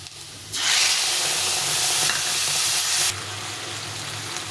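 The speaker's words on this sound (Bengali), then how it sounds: "এখানে ওল আর আলুটাকে মশলার সাথে ভালো করে কষিয়ে নেব" Fried yam and potato pieces being stir-fried with spices in a pan, a low sizzle that swells into a loud hissing burst when stirring starts, then drops back to a softer steady fry.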